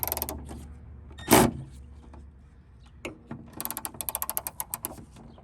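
A ratchet wrench cranked during a spoiler install on a ZL1, with a loud clunk early, then a quick run of sharp ratcheting clicks near the end, close and dry.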